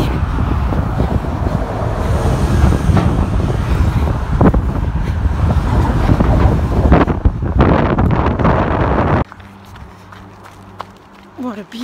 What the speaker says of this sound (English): Don't know if you can hear me over the wind.